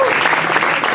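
Dense clapping from an audience after a storytelling performance, a brief steady burst of applause throughout.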